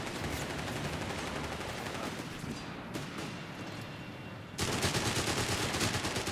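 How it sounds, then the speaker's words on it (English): Heavy automatic gunfire in a Company of Heroes 3 battle, dense continuous rattling bursts that ease slightly midway then swell louder again toward the end, with no talk. "they're getting absolutely mauled here by heavy automatic fire"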